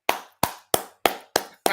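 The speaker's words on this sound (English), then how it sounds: "We need to clap for Baba Tinubu." Six sharp hand claps in a slow, even rhythm, each crisp and close with a short decay, heard alone without talk.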